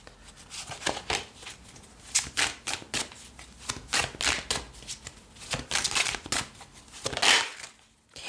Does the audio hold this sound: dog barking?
no